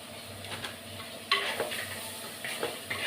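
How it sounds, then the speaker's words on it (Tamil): Ingredients sautéing in a pan for a tamarind fish curry, a soft steady sizzle broken by a few sharp scrapes and knocks of a stirring spoon against the pan. "எல்லாம் நல்லா வதங்கட்டும்."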